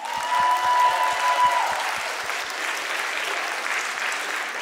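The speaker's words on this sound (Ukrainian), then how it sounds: "Оплески!" Audience applause at a school talent show, dense steady clapping from a crowd filling the whole stretch, with a sustained tone and a rhythmic low thumping beat underneath at the start.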